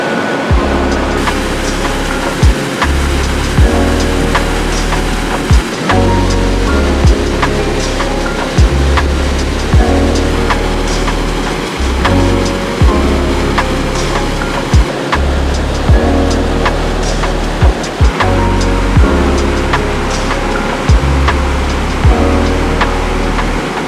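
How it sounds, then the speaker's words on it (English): Rushing water of the Virgin River flows steadily and loudly near a bridge, a continuous broadband roar with no voices. "there's nothing I love more than listening to rushing water"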